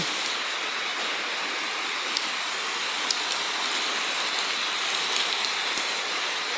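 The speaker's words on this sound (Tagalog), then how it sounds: "Inabot kami ng ulan yo." Steady hiss of heavy rain falling while out on a motorcycle, dense and continuous, with occasional sharper drips and taps standing out.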